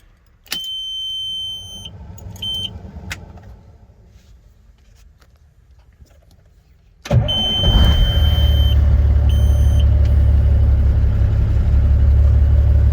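A 2000 Peterbilt 379 truck's Cat C12 turbo diesel engine cranks and fires up loudly, then settles into a steady, deep idle, after quieter chimes and clicks inside the cab.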